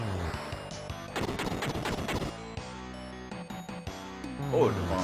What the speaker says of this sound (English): Oh, the bomb killed him straight out.